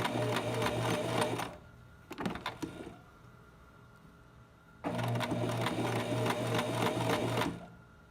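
A home sewing machine stitches elastic onto a fabric face mask in two fast, whirring bursts of rapid needle clatter, separated by a quiet pause with light handling noises.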